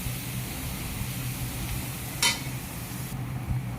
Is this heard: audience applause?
no